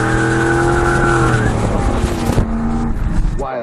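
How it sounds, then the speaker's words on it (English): A car's single tire spins and squeals in a one-wheel peel, a loud screeching burst with the engine roaring beneath, close up and brief. "That's only one wheel peel."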